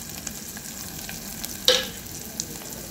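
Dry spices (chilli powder, salt, turmeric, coriander powder and biryani masala) fry in a pan for jackfruit biryani, giving a soft continuous sizzle with one sharper stir-scrape midway, quiet and without voices.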